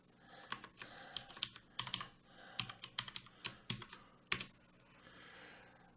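Fingers tapping a username and password on a computer keyboard: quick irregular bursts of crisp keystrokes with short pauses, close and clear, no voices.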